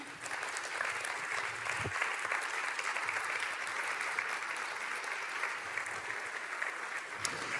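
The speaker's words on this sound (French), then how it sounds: "Je vais vous demander un tonnerre d'applaudissements pour Steve Anthony." An audience at a marketing event keeps up a dense, sustained round of applause from many hands, loud and continuous throughout, with no talk over it.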